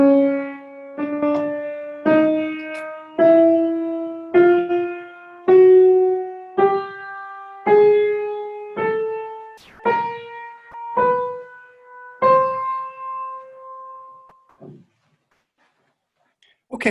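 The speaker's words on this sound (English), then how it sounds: "I'm going to go to the piano and I will play it one note at a time for you." Thirteen separate piano notes climb a chromatic scale one at a time at a steady, unhurried pace, each struck cleanly and left to decay before the next, with the last one ringing longer and then silence.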